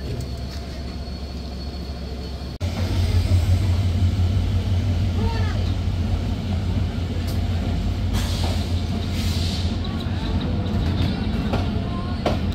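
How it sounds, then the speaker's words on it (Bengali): The Banglabandha Express pulls out of Ruhia railway station, its engine rumble suddenly swelling into a steady, loud low drone with rattling carriages and clanking wheels, heard from inside the train. "ছেড়ে যাচ্ছি রুহিয়া রেল স্টেশন।"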